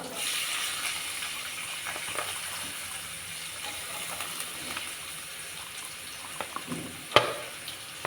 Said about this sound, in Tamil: ஆனியன் வதங்கிட்டுருக்கு.